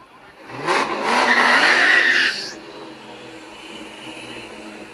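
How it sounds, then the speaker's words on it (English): An SUV launches against a 2003 Mustang Cobra at a no-prep street race, a loud burst of engine roar and tire squeal rising sharply then cutting off after about two seconds, leaving a low idle rumble. "Got the SUV over here in the left lane going up against the Mustang."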